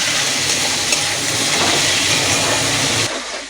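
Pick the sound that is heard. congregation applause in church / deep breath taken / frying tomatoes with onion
frying tomatoes with onion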